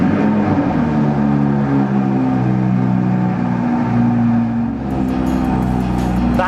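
An Audi R8 RWS engine revving with a loud, sustained, close growl that holds steady and then climbs in pitch near the end.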